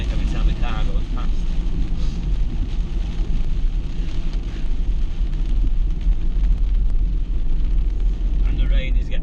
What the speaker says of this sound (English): And the rain is getting a lot heavier now.